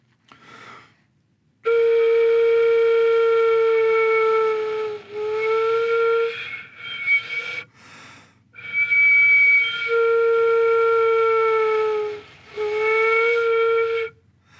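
A flute plays long sustained notes broken by short pauses. Its tone and pitch shift audibly as the head joint is rolled in and out, moving from airy and breathy to clear and whistly.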